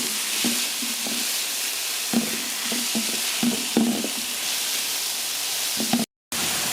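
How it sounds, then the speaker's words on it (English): Tomatoes added to aromatics in a hot pan set off a steady, loud sizzle, with a spoon scraping and stirring in short repeated strokes; no voices. "So I added my aromatics and I'm adding the tomatoes."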